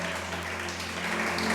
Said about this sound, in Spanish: Vamos a darle ese aplauso al Rey.